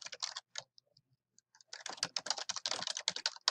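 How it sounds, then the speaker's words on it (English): Rapid, light keystrokes on a computer keyboard patter close by, a short burst first, then a few scattered taps and a near silence, then a longer dense run of clicks, with no speech. "As the author, you're going to type Chamberlain"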